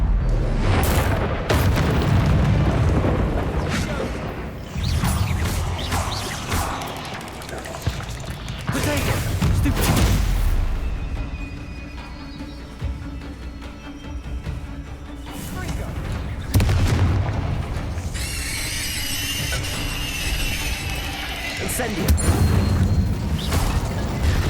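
Incendio fire spells bursting in the wizarding game Hogwarts Legacy, with repeated heavy booms and crackling blasts across a long stretch of combat, mixed with spell effects and character voices.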